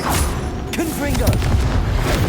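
The Confringo fire spell explodes in Hogwarts Legacy as a series of loud, close booming bursts with crackling fire, mixed with a voice speaking.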